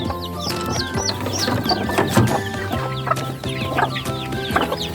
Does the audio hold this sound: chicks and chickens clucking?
yes